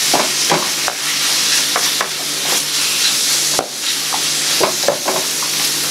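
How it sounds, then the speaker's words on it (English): Shrimp and grits being stirred in a hot pan, a steady sizzle and frying hiss with repeated scraping strokes of the spoon against the pan, close and continuous, no talking. "And so I'm just stirring."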